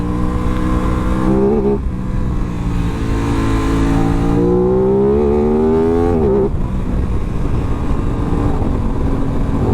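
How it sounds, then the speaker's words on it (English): An Aprilia RS 660 motorcycle on a rough road, accelerating loudly and up close with rising engine pitch and quick-shifter upshifts cutting in, the engine note dropping and climbing again after each shift. "That up quick shifter works amazing, even just doing a light acceleration."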